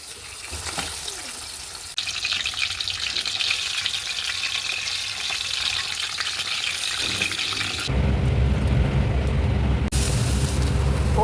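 Garlic and onion frying in oil in a kitchen, a steady loud sizzle that gets hotter and fuller partway through, with faint clinks of stirring and no talk.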